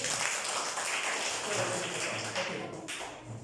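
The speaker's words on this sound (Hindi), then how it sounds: "ताली बजाओ इसके लिए" A class of fourth-grade children claps together in a Hindi lesson, a dense, steady patter of many small hands filling the room for a few seconds, without speech.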